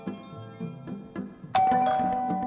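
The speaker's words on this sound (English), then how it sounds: "we just ring the bell" Small bell rung over soft background music, a bright sustained ring entering suddenly and holding steady until the end.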